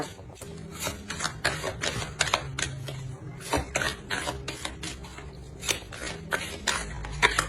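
Tarot cards drawn and laid out on a reading table, giving soft, close papery slides, rubs and light taps in quick irregular clusters, with quieter gaps between handlings.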